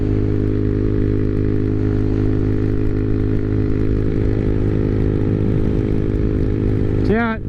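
A Honda Navi motorcycle engine running at a steady, loud, unbroken drone while cruising, with a brief voice right at the end.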